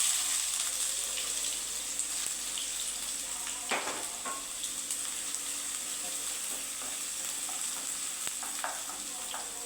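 Mustard seeds, garlic and onion fry in a pan with a steady, close sizzle, broken by occasional stirring scrapes.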